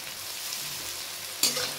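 Onion and garlic paste fry in a pan for mutton curry, giving a soft steady sizzle that jumps louder for a moment near the end as the mixture is stirred.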